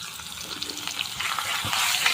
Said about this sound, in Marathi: अगोदर मी जिरं टाकते तेल बघा छान असं गरम झालेलं आहे मस्त यात त्याच्यात लसूण लसूण मी जास्त टाकणार आहे